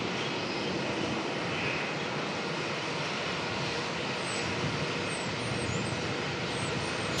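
A China Southern airliner departing at Melbourne airport, a steady, distant engine roar that holds at the same level throughout, with no speech.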